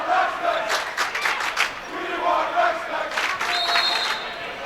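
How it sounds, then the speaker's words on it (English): Crowd of St. Ignatius fans chanting at a high school boys basketball playoff game, a loud sustained rhythmic roar of many voices with repeated swells, heard from within the gym. "They're chanting, "We want Rex Specs, Brandon Curry.""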